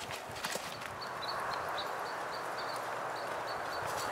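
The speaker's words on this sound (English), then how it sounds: "lunge my horse and make sure I'm not going to have any major problems while I'm out on the trail." A horse fitted with Easyboot Glove hoof boots walks on a lunge line outdoors, its hooves landing in a steady, soft clip-clop over constant wind-like background noise, with faint birdsong above.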